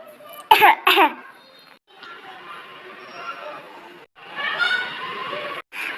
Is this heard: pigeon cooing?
no